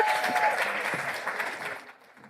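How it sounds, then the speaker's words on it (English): A crowd at the Standard Bank EmpowHER 2026 event in Durban applauds, a dense burst of clapping that starts strong and gradually fades out over a couple of seconds. "give Sashmi a huge round of applause one more time"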